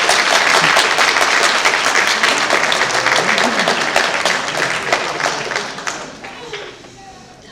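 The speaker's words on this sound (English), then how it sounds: "give a round of applause to all of you in the audience" Applause from an audience at a nursing class graduation ceremony, steady dense clapping that fills the hall and slowly thins and fades out toward the end.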